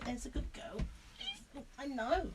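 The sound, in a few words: cat meowing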